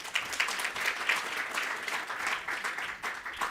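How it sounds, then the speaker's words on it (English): Warm applause from a conference audience at a World Heritage Committee side event welcomes a speaker, steady and moderately loud across the whole stretch with no voices over it. "Please give him a warm round of applause."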